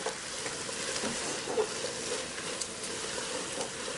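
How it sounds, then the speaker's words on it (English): Egg and vegetables frying on high heat in a pan for Chinese fried rice, a dense, steady sizzle with light stirring clatter, close and continuous with no talking. "I'm gonna turn my heat up on high because we just want to cook the egg just a little bit in there"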